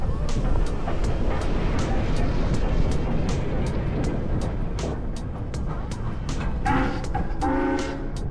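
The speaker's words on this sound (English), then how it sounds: "sitting in a carriage being drawn by a steam train" A steam train, the Cockle Train at Victor Harbor, rumbles along steadily with rhythmic clattering over the rails, and a horn-like tone sounds near the end while people talk faintly.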